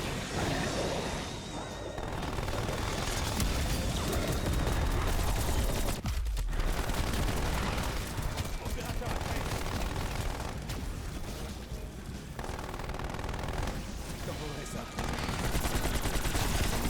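Turret gunfire in a Halloween-themed video game, loud rapid bursts of automatic shots rattling almost nonstop with brief gaps, over game effects and music.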